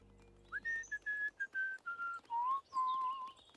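A person in a cartoon whistles a song, a clear solo melody of sustained, gliding notes in short phrases, close and alone with no talk.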